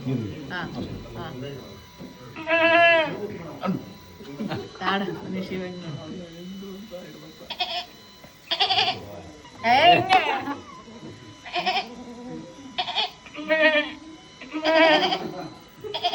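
An actress mimics a goat on a film set, voicing a string of wavering, nasal bleats in short bursts, with brief talk between them.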